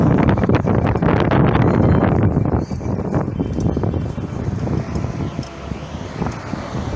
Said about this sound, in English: trying to get away from this wind